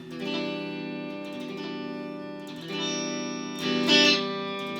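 Sustained chords from a Harley Benton CST-24T electric guitar on the neck pickup with coil split active, in a clean, warm tone, ringing out and changing a few times, with light reverb and no voices.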